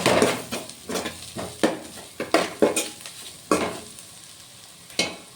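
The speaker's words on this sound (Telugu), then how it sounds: "ఇప్పుడు ఇందులోకి అల్లం వెల్లుల్లి పేస్ట్ వేసుకొని కొంచెం ఫ్రై చేసుకోవాలి" Ginger garlic paste frying in hot oil over already browned onions for an egg curry, with repeated spatula strokes against the pan producing rhythmic scraping bursts over a bright crackling sizzle, close and fairly loud.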